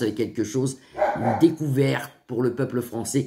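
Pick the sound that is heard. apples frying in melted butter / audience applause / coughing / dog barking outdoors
dog barking outdoors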